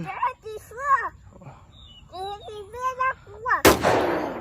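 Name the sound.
gunfire in a video game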